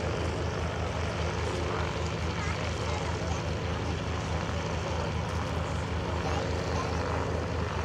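An F4U Corsair warplane taxis toward the runway at EAA AirVenture, its propeller engine giving a loud, dense, unbroken roar and drone that fills the whole stretch.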